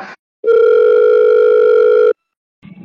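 A phone call rings out to the owner of a Mahindra Supro luggage vehicle for sale: one loud, close electronic ringback tone lasting under two seconds, with brief faint sounds just before and after.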